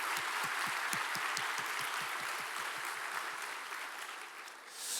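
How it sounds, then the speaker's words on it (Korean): A church congregation claps together, its applause at first keeping a steady rhythmic beat and then settling into a broad, even wash of clapping that thins slightly toward the end. "아무튼 3분 우리 박수 한번 하겠습니다."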